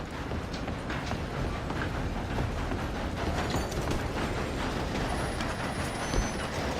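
A moving train in Red Dead Redemption 2 rumbles steadily and loudly throughout, a dense rolling roar with faint metallic squeals, carrying no talk.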